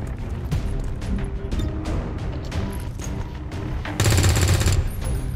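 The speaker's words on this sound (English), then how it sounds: "That was some pretty bad shots by my team." Soldiers firing weapons in the video game XCOM 2, with repeated sharp gunshots and bursts throughout and a louder sustained volley near the end.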